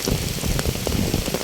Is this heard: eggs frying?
no